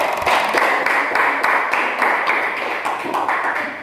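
A small classroom group claps for a student's correct answer during a geology presentation, a few hands making brisk, close, uneven claps that continue steadily for a few seconds.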